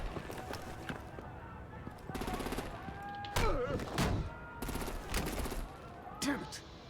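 Gunfire and artillery blasts in the video game Batman: The Enemy Within, loud sharp bursts and volleys scattered over a busy battle mix, with voices shouting between shots.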